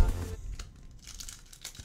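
A Pokémon card pack is torn open with a short crinkling rip close up, followed by faint foil rustling and no talking.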